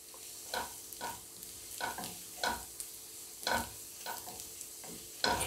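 Garam masala sautéing for egg curry, with a soft steady sizzle under regular scraping stirs of a spatula in the pan, each stroke a brief close burst, no voices.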